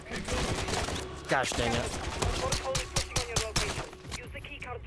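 Bursts of gunfire from the video game Call of Duty Modern Warfare III crack in quick succession, close and sharp, while someone talks over the shooting.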